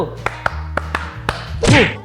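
A group playing an ice-breaking game claps in a quick rhythmic pattern, about five sharp, crisp claps spaced closely together, followed by a voice speaking.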